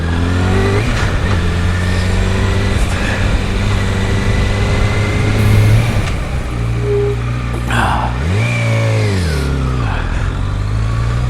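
A motorcycle engine runs steadily throughout during emergency braking practice, rising and falling in pitch as it revs and slows around a hard stop, with a louder swoop near the end; no talking.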